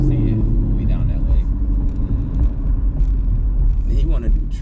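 Chevrolet Camaro SS in track mode, its engine and exhaust giving a deep, steady low rumble from inside the cabin while people talk over it.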